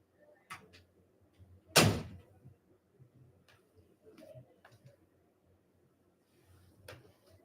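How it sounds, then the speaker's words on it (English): One sharp, loud thunk of a door shutting indoors stands out, surrounded by faint knocks, ticks and room noise, with no clear voices. "Close my door."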